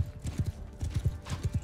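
Horse hooves clip-clop in quick, repeated bursts of three or four soft thuds in the medieval battle game Mount & Blade II: Bannerlord, fairly faint with a light background hum.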